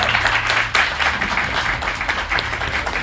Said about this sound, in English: can we have a huge warm welcome and a massive round of applause to Joe Woodhouse